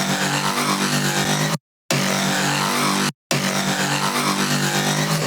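A gated synth in a house track breakdown, run through a Focus 1 effect, plays as a dense, loud sustained tone chopped by two abrupt silent gaps, with no talk over it.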